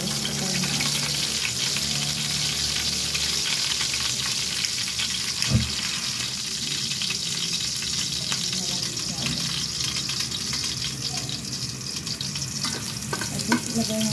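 Garlic frying in a pan for salmon afritada, a dense, steady sizzle and crackle close up with occasional stirring knocks, continuing unbroken throughout.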